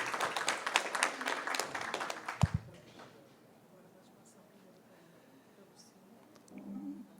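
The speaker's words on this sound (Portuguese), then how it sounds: "Luciana Carneiro, uma salva de palmas." Quiet applause from an audience at a state meeting of retirees and pensioners, lasting about two and a half seconds before dying away into a hushed room with faint murmurs.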